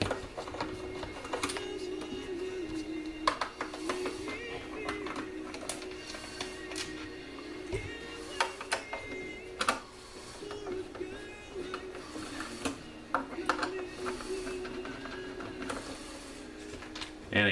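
Small screwdriver turns and clicks come up close as four cover screws are backed out of a Vitrek 950i instrument case. The faint mechanical ticking and scraping is irregular, with sharper taps now and then over a quiet background.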